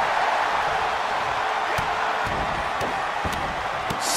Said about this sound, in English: Stomp after stomp. Relentless.